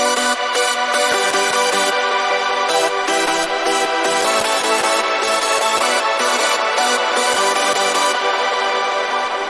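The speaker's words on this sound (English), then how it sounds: "And everything all together, the chords sound like this." Hardstyle chords built from detuned supersaw synth layers ring out as dense, bright sustained stabs in a steady rhythmic pattern with brief gated gaps, loud and alone without any voice.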